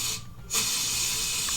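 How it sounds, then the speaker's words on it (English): An aerosol can sprays in a steady, close hiss that starts after a brief pause and runs on evenly without voices. "Aerosol can."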